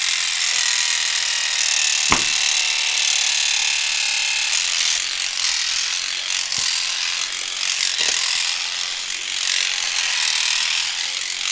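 An electric hair brush runs steadily through hair with a loud, rough buzzing and rattling whir, constant and close, with a few faint clicks.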